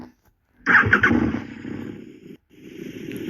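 Video-game motorcycle engine revving in loud bursts after a moment of silence, a rough rising growl that briefly cuts out and then resumes, close and alone.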